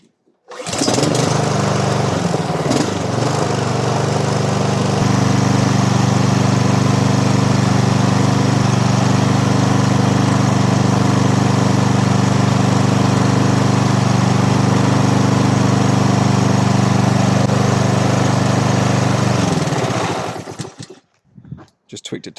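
A brand-new Honda HRX 537 lawn mower, its governor tweaked to 3000 rpm for break-in, runs close and loud with a steady, unbroken engine drone for about twenty seconds before cutting off.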